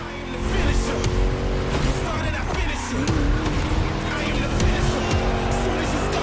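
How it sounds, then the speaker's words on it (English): A throaty V8 engine in the video game The Crew Motorfest roars at high revs as a race car runs, with brief tire squeals over the steady growl. "Just listen to that V8 like a chunky, down-tuned guitar riff."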